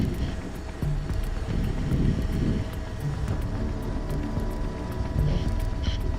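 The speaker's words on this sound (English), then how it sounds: "Wind's whipping around. Wind's getting us pretty good." Wind buffeting a helicopter during a landing approach at about 200 feet, a steady, loud, rushing roar with gusty swells over the engine drone, with no voices.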